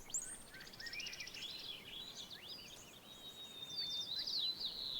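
Several birds chirp and trill outdoors in the city, high thin calls rising and falling over a steady faint background hiss, quiet and somewhat distant throughout.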